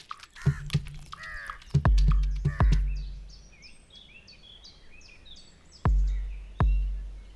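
A New Caledonian crow in the New Caledonian forest gives a run of short, repeated calls between a few sharp knocking thumps, fairly close and clear.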